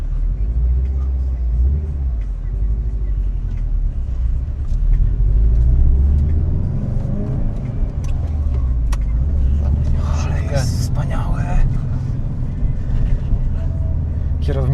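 A TommyKaira M20b car engine rumbles low and close as it pulls away, the drone rising and falling through the pull-off with a brief higher rattle later, while someone talks over it.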